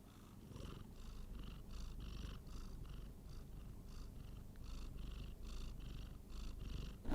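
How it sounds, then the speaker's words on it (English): A cat purring close up, a continuous low rumble pulsing steadily with each breath, with no voices. "Listen to his purring."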